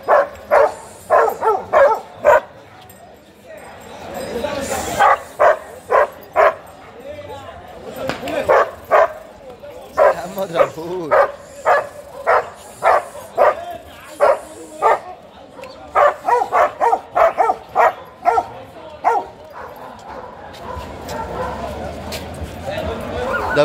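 Many large dogs barking repeatedly in sharp bursts, some yipping and whimpering, amid a crowded outdoor Friday dog market with people talking throughout.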